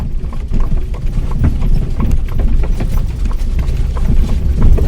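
A horse's hooves clip-clop in a steady, moderately paced rhythm while pulling an Amish buggy, close and loud over the rumble of wheels on the road.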